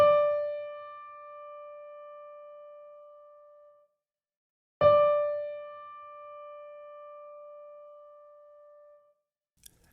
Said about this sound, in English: The next note on the fourth line of the treble clef staff is a D